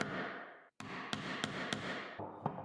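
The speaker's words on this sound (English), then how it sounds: "define that line further with the chisel and the mallet" A mallet drives a chisel into straight-grained wood, chopping out a houndstooth half-blind dovetail with hand tools only: several sharp, close strikes spaced roughly a quarter second apart over a steady scraping background.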